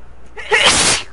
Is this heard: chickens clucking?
no